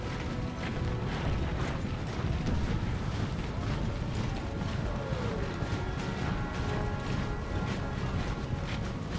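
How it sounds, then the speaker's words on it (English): Union artillery fire in an American Civil War video game: a dense, continuous rumble of distant cannon booms and battlefield noise rolls on steadily, loud and unbroken, with no clear voices. "they are being targeted by the Union artillery"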